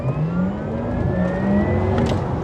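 A Porsche Taycan Turbo S electric sports car accelerates with a smooth, rising whine that climbs steadily in pitch, close and fairly loud, with no voices.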